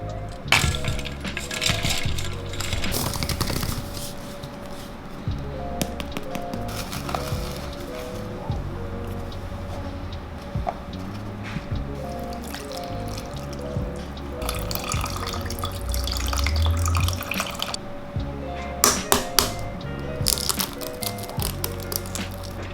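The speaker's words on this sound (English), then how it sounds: "I usually just peel my eggs straight in the water" Boiled eggs are peeled in a bowl of water, giving scattered drips, light splashes and small shell cracks and clinks over a steady low background hum.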